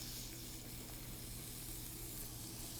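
Chopped onion sizzles in a hot pan as it softens, a faint, even hiss of frying held at one level with a low hum beneath and no talk.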